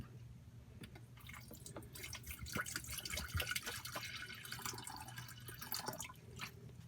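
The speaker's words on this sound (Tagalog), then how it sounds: "Lagyan natin ng konting tubig." Water poured into an electric kettle that is being repaired: a steady splashing trickle with small drips runs for several seconds at moderate loudness, with no talking.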